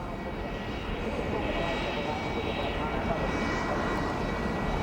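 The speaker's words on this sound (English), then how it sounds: "You hear the jet dryers working down the front straightaway." Jet dryers roar along the front straightaway of the NASCAR track at Pocono during the 2004 Nextel Cup Pocono 500, a steady loud broadband rush with a whining hum under announcer commentary.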